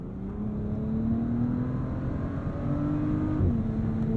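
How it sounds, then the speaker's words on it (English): A deep, smooth W12 engine note hums steadily from inside a moving 2023 Bentley Flying Spur Speed, rising slightly in pitch as it pulls, with a brief shift near the end. "what do we think of the engine note?"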